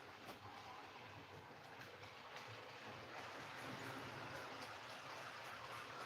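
A die-cast brass Great Northern Mikado model locomotive pulls a small freight train along its track, giving a faint, continuous rolling rumble with light rhythmic clicking and no speech.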